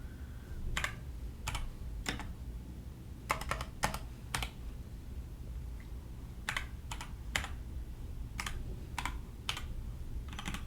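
Keys on a computer keyboard are tapped in short bursts of sharp clicks with pauses between, fairly quiet and close, typing out a math fraction.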